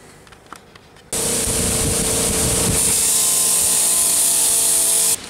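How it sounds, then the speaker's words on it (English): After a quiet moment, an abrasive sanding wheel grinds loudly against metal slip-joint pliers, polishing around the rivet, a harsh sustained hiss and whine that runs steadily for several seconds before cutting off. "that is just the abrasive sanding wheel"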